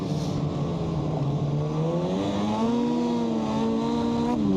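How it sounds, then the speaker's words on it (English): An 800 snowmobile engine drones loudly while riding over thin grass, its pitch sagging briefly as it bogs before climbing again, close and steady with no voices. "It's like this thing has a little bit of a bog once in a while."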